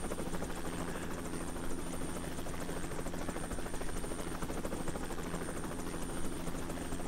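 Steady helicopter rotor drone in the video game ARMA 3, dense and continuous throughout with a constant mechanical hum and no speech, at moderate level.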